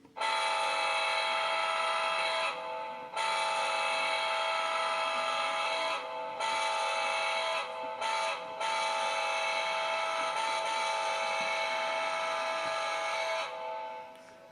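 An Atlas ALP45-DP model locomotive blows its horn as a loud, steady, harmonically rich electronic tone. It sounds in several long blasts separated by brief gaps and lasts about fourteen seconds, close and alone.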